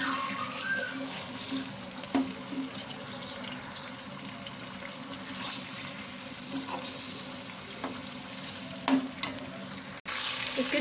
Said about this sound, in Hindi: सारा चिकन जो है वो ऐड करेंगे। उसको भी हम साथ ही फ्राई करेंगे